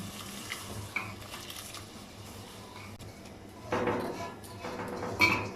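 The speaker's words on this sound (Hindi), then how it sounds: "पहले से भिगे हुए जो चावल है वो हम शामिल करेंगे।" Pre-soaked rice is tipped into a pot of boiling water while cooking masar chawal, a soft bubbling hiss breaking into a louder rushing pour midway, followed by faint clinks and stirring.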